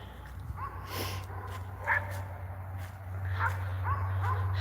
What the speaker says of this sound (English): Those dogs are getting on my nerves.